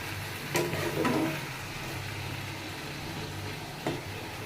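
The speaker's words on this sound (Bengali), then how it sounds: "নেড়ে নেড়ে দিচ্ছি।" Cabbage cooks with a fish head in a pan, giving a soft, steady sizzle with occasional scrapes and knocks as it is stirred, fairly quiet and close, over a low hum.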